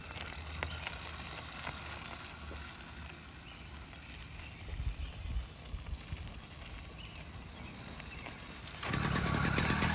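An 80cc two-stroke engine on a pedal bike buzzes and sputters unevenly at low, rough revs, then rises into a louder steady drone near the end.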